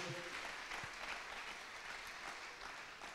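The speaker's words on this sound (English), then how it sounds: "A good, beautiful hand clap." A church congregation applauds continuously during a Sunday service, many hands clapping together in a dense, sustained wash of sound throughout.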